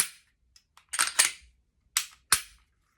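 Sharp trigger reset clicks from a Glock 30 Gen 3 pistol fitted with an aftermarket Serpico trigger: a flurry of close, crisp mechanical clicks, then two separate louder snaps, dry-fired with no talking.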